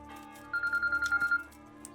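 A telephone rings in a quick burst of about eight rapid pulses, close and fairly loud, cutting in over quiet game audio from Kingdom Come: Deliverance.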